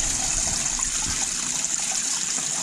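Coolant gushing from the radiator of a 2001 Dodge RAM with the 5.9 Magnum engine while the cooling system is flushed; a loud, steady rush of liquid pours without a break, with no talking.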